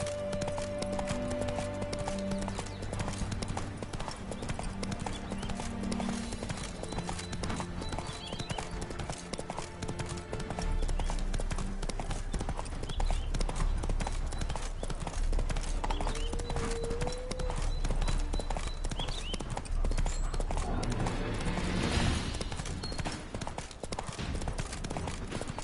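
The horse Roach galloping across terrain in The Witcher 3 video game, with rapid rhythmic hoofbeats running continuously over a rumbling game soundscape, close and steady throughout.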